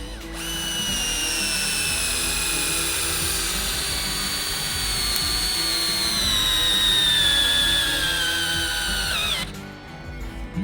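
A Ryobi One 18V cordless drill-driver drives a screw with a loud, steady high motor whine that runs for about nine seconds before cutting off abruptly.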